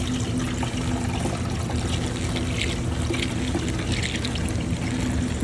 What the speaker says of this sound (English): take our water and glycol mixture and slowly start adding it to the tank